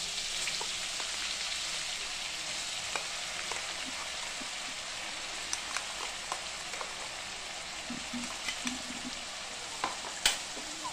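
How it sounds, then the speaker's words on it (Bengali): Onion paste made from two large ground onions fries in hot oil for a chicken kofta curry, a steady close sizzle with scattered small pops and occasional clicks of stirring. "পেঁয়াজ বাটাটা ভালো করে ভাজা করে নিতে হবে"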